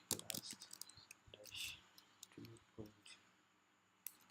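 Light clicking keystrokes on a Mac computer keyboard, quick irregular taps close by and faint, with a voice speaking over them.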